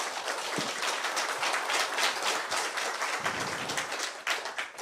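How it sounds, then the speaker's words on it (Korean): An audience claps steadily and evenly for several seconds, a dense, continuous patter of many hands with no voices on top. "뜨거운 박수 부탁드리겠습니다"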